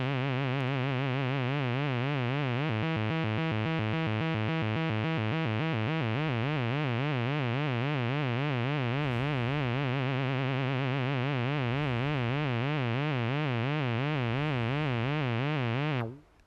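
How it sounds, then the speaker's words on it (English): A Behringer 2600 synthesizer tone has its square wave smoothed toward a sine wave: a loud, sustained buzzy pitch warbling with a steady vibrato, briefly brighter and more rapidly pulsing for a few seconds, then cutting off at the end. "we can smoothen the entire square wave, turning it into some kind of a sine wave form."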